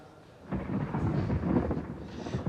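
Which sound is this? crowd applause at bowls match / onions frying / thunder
thunder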